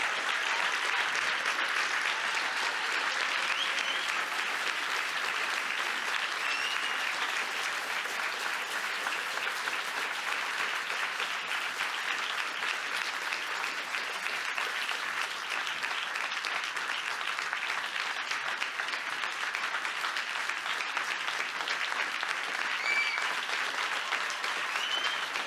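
Warm, sustained applause fills a closing ceremony hall at a human rights film forum as a speaker is welcomed to the stage, a continuous even wash of clapping from a large audience with no voices over it.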